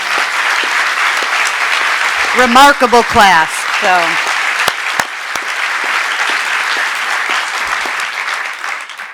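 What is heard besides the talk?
audience applause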